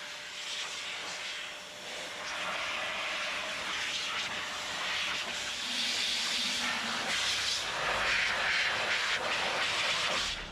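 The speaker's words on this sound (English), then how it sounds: "Now I've got to dry it, as usual, using my trusty bike dryer." A bike dryer blows a steady, loud stream of air over motorcycles after washing, a constant hissing whoosh that shifts slightly in intensity throughout.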